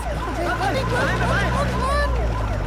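A police siren wails in rising and falling sweeps, mixed with overlapping voices and crowd chatter.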